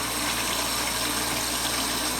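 Warm water pours steadily from a tap for hand washing, a continuous loud gushing hiss that stays even throughout with no voices.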